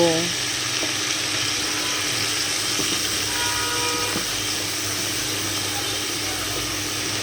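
Turmeric, salt and chili paste are being sautéed in a pan, giving a steady sizzling hiss throughout, with faint clinks and stirring scrapes near the start.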